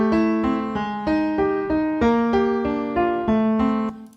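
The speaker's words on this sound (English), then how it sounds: "Upright piano." Upright piano part from a music production mix, playing a steady sequence of sustained chords with clear repeated attacks roughly every third of a second, alone and upfront, ending with a fade.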